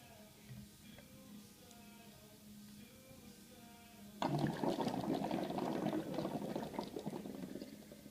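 Exhaled air bubbling through a tube into a water-filled inverted milk carton during a lung capacity test, a quiet hum giving way to a sudden, steady gurgling burst that continues to the end.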